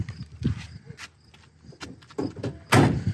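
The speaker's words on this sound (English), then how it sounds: "Doors open and close perfectly." The doors of a pristine, all-original 1964 Cadillac Series 62 with 31,000 miles are worked open and shut: a run of soft clunks and latch clicks, then one loud, solid slam near the end.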